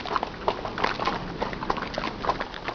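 Horse hooves clip-clop across the sandy volcanic desert at Bromo in a fairly quick, uneven rhythm of soft knocks, moderately close and fairly quiet with no voices.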